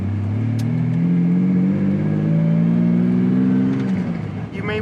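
A Lamborghini Diablo supercar's engine drones steadily and loudly from inside the cabin while driving, its low rumble rising slightly in pitch as it pulls, with no talk over it.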